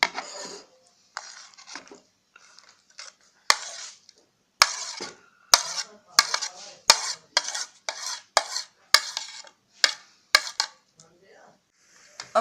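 Grated onion paste scraped off a grater onto a plate, a run of close, sharp metal clinks and scrapes that come in quick irregular bursts, with brief pauses between them and no talk.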